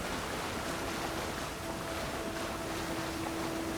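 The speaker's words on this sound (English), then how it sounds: "this is a giant waterfall" A giant waterfall in the fantasy video game Avowed roars as a steady, broadband rush of falling water, continuous and even throughout, with a faint tonal hum beneath it.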